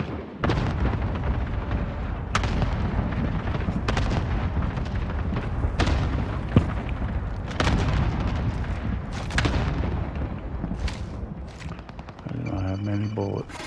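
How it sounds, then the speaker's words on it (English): Cluster strike explosions in Call of Duty Warzone Rebirth rumble on continuously, with repeated booms and gunfire layered under in-game voices. "Allied cluster strike inbound."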